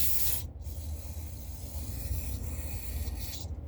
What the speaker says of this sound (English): just some carbon choke spray